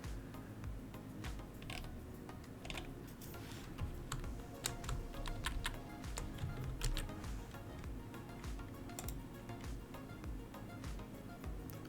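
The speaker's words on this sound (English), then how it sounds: "I typed in a new prompt here" Typing a prompt on a computer keyboard, a quiet, close run of irregular key clicks and taps continuing for about twelve seconds with no talk.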